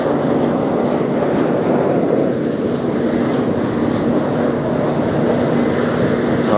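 A Spirit airliner, flight 708NK, rolls for takeoff at windy Las Vegas, heard as a steady, loud broadband jet roar with no voices.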